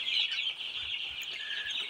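Sonali chickens on a poultry farm in Natore, a soft flock clucking and chattering steadily nearby, with no talk over it.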